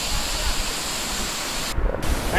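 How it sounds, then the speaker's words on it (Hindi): Apsara Fall, the waterfall above Duchess Fall in Pachmarhi, pours with a loud, dense, continuous roar of falling water close by, steady throughout with a brief dip near the end. "जो झरना गिर रहा है जो आपको स्क्रीन पे दिख रहा है ये एसी फॉल है।"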